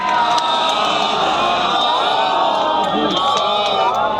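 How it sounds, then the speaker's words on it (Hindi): A large gathering at a Buddhist talk chanting and cheering "sadhu sadhu" for the monastic sangha, a loud, continuous roar of many voices with shouts and whoops throughout. "भिक्षु संघ के लिए तालियां बजा करके और हाथ ऊपर करके साधु साधु कह करके"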